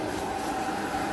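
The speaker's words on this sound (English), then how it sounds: "Pump starts going." A sump pump under a dog bathing station kicks on, giving a steady, close droning hum with a faint whine running through it.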